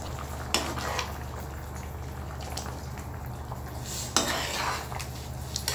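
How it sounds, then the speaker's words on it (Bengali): Egg and ash gourd curry stirred in a pot, a low bubbling bed with soft scraping and two sharper clanks of the spoon against the metal, nobody speaking. "একটু নেড়ে চেড়ে দিয়েছি"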